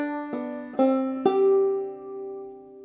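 Clawhammer banjo played with the drop thumb technique: three plucked notes in quick succession, each a bright twangy attack, the last left ringing and slowly decaying, close and clear with no talk.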